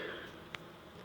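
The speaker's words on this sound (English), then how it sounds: "Hear the buzzing?" Faint, steady buzzing hum of honey bees from newly installed package bees in a hive, low and continuous.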